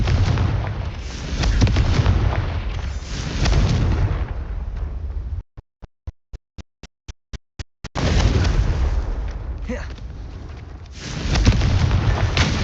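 A Confringo blasting spell in Hogwarts Legacy, loud booming explosive rumble from the game, broken midway by a short run of sharp rhythmic pops before the heavy roar resumes, no speech.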